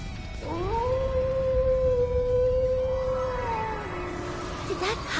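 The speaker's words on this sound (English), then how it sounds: "Did that howl cancel out the artifact's power?" A wolf howl from The Legend of Heroes: Trails into Reverie rises into a long, steady, tonal cry that holds for several seconds before sliding downward, heard over a low rumbling game backdrop.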